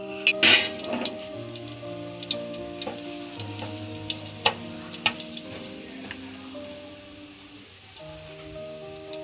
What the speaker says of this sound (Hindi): साबुत धनिया डाल रहे हैं।